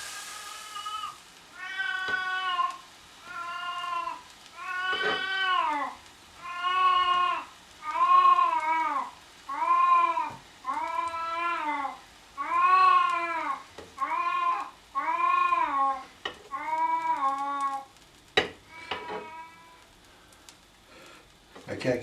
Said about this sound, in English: My cat gets impatient sometimes when she smells some steak or something she really likes.